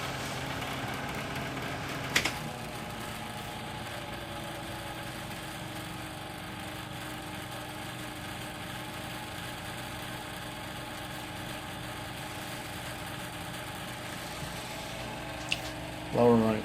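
Electric household fan running on its high setting with a slight rattle, giving a steady, even hum and vibration throughout with a couple of brief clicks.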